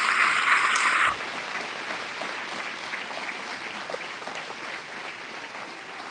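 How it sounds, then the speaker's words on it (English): Applause from a county fair coronation crowd for scholarship winners, a short burst of clapping that cuts off abruptly after about a second, leaving quiet room ambience. "A round of applause for them."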